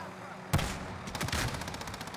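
Gunfire in an Activision video game: a sharp loud shot, then a rapid burst of several shots close together, with a steady background hum continuing afterward.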